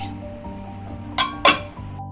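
A lid set onto a cooking pot during preparation of a taro-root buttermilk curry, giving two short metallic clinks in quick succession over a quiet kitchen background.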